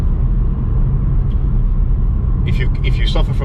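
Renaultsport Clio 220 Trophy hatchback on a stiff cup chassis, driven on a road: steady loud low engine and road rumble fills the cabin throughout, with brief higher rattles and clicks near the end.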